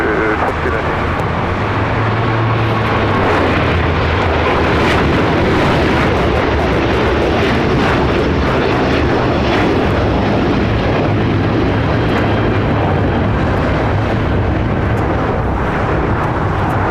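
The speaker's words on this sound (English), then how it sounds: "China Airlines A350 landing up there on the north side, now heading over to the gates" China Airlines Airbus A350 landing and heading to the gates at LAX, a steady loud roar of jet engines from a distance mixed with airfield noise throughout, with talking over it.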